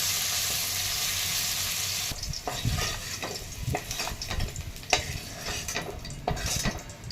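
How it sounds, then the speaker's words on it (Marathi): Okra hitting hot oil in a pan and frying, with a steady bright sizzle at first, then a busier crackle broken by repeated spatula scrapes and stirring knocks, close and fairly loud. "आता या तेलामध्ये आपल्याला भेंडी परतायची आहे"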